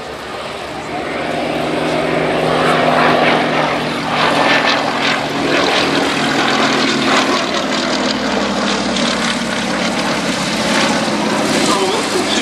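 A high-wing RAF army cooperation monoplane with big undercarriage spats drones past at Old Warden, a steady propeller-engine roar sustained and fairly loud, with faint voices underneath.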